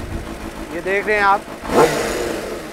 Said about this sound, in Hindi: तो आवाज़ जो है बड़ी गूंजती है। ये साथ में जो सीटियों की आवाज़ आ रही है ना, ये ट्विन टर्बो इसके अंदर इंस्टॉल किया गया है